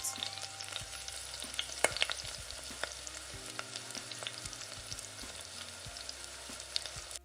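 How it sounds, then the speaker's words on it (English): Onions sizzle and crackle steadily in hot oil, a close, continuous frying sound with occasional sharper pops and stirring. "So in the hot oil, I'll be frying the onions."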